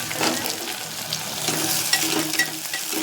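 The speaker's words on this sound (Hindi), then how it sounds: "अब इसमें मैं डाल दूँगी प्याज। प्याज हमारे डल गई।" Onions sizzle in a hot pan with cumin seeds, a steady frying hiss with a few soft stirring scrapes, close and clear with no one talking.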